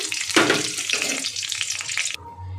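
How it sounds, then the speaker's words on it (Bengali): Hot oil left over from frying paneer hisses and sizzles loudly in a pan after a little more oil is added, a bright crackling rush that cuts off abruptly near the end. "আমি এই পনির ভাজা তেলের মধ্যে আর একটু তেল দিয়ে দিলাম"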